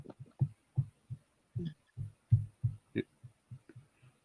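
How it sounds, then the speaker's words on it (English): Soft low thumps from pressing a computer key or mouse button, a dozen dull, heartbeat-like knocks in an uneven rhythm, close and muffled, with a faint trace of voice. "that's when I press the key, the mouse down"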